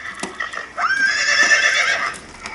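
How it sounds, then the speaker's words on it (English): A toy plays a recorded horse neigh: a bright, loud whinny of about a second after a few short clicks, with no talk over it. "This one have horse inside."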